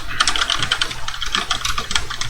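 Quick, steady typing on a computer keyboard, a dense run of close, crisp key clicks with brief pauses, heard on its own.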